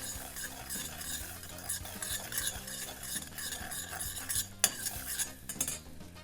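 Butter with red pepper flakes sizzling in a pan, a dense continuous crackle with busy stirring and utensil clinks throughout, a sharper clatter near the end.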